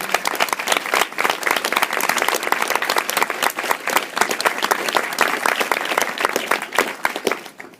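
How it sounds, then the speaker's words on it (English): Indoor audience giving a warm round of applause for staff at an evening gathering, many hands clapping in a dense, sustained wash that holds steady before fading slightly at the close. "So maybe we can give them a round of applause."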